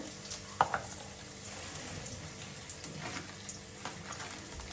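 Khesari dal and cumin fry in oil in a home kitchen, making a faint, soft sizzle with a few sharp clicks and taps scattered through it.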